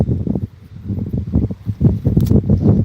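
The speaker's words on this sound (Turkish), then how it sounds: "Burada aşırı derecede bir rüzgar var." Strong gusts of wind push through trees on open farmland, a continuous low, surging roar with rustling that swells and fades in waves throughout, close and loud against the microphone.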